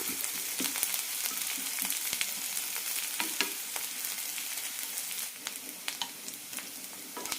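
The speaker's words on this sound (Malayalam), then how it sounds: "ഇപ്പോൾ ട്രാൻസ്പാരൻ്റ് ആകുന്ന വരെ വഴറ്റിയെടുക്കാം" A medium onion sautés in hot oil in a pan, giving a steady close sizzle with soft stirring scrapes and scattered pops that continues unbroken, with no voices.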